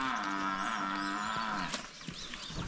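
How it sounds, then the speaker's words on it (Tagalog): A lone native-bred nanny goat calls out loudly and close, a drawn-out wavering bleat followed by shorter cries, with faint background sounds and no talking. "Nag-ingay si Paula kasi siya lang mag-isa"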